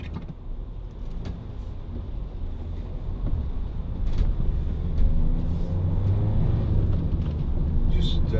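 Inside a Peugeot Partner 1.6 HDi van driving, a steady low engine and road rumble fills the cabin and grows slightly louder partway through, with faint knocks and rattles.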